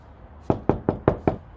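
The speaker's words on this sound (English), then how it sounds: "Knock, knock, knock." Five sharp knocks on a door, evenly spaced and close, sound during a stage performance of the porter scene in Macbeth, with no talk over them.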